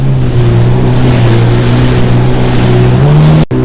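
A Yamaha WaveRunner personal watercraft runs across open water near Patience and Prudence Islands, its engine a loud, steady drone that shifts pitch slightly near the end before a brief cutout.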